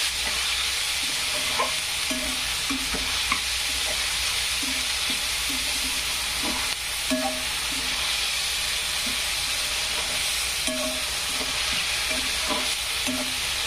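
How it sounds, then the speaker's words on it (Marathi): Chopped onions with salt frying in a pan, a steady broad sizzle with soft intermittent clicks of stirring throughout. "कांदा छान तळू द्यायचा, असा फ्राय होऊ द्यायचा मस्तपैकी"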